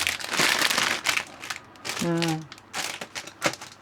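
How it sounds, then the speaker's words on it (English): A sealed LEGO plastic parts bag crinkles and rustles up close as it is cut and opened with scissors, with a brief snip in the middle and a person speaking over it. "And we'll open bag 1."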